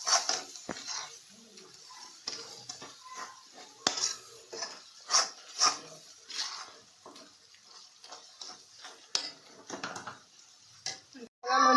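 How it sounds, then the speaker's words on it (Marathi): Malvani roasted masala stirred in oil in a pan, a spoon scraping and clinking against the metal in irregular taps, close and moderately loud, with faint sizzling underneath. "आता तो व्यवस्थित ढवळून घेऊन मग त्याच्यात आम्ही टाकणार सगळी कालवा"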